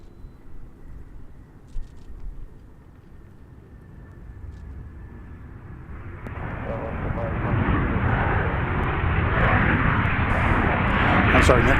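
A Contour Airlines Embraer ERJ jet at Nashville airport, its engine roar faint and distant at first, then swelling into a loud, steady rush from the midpoint onward.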